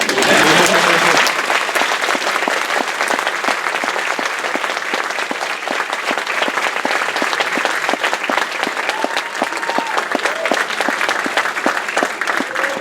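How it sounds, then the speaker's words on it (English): Sustained audience applause fills a graduation ceremony hall after a commencement speech, dense steady clapping from a large crowd with a few faint voices and a brief whistle-like tone late in the burst. "y'all clap now"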